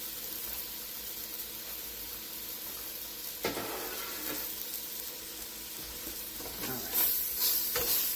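Chopped vegetables sautéing over medium-low heat for creamy tuna noodles, a steady soft sizzle with occasional scrapes and stirring clatters from a utensil in the pan, no voices.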